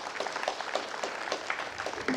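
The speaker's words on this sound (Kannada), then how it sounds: "ಇವರನ್ನು ಜೋರಾದ ಚಪ್ಪಾಳೆಯಿಂದ ಸ್ವಾಗತಿಸೋಣ" A crowd applauds to welcome guests at a school Kannada celebration; steady, moderately loud clapping with distinct individual claps audible throughout the short stretch.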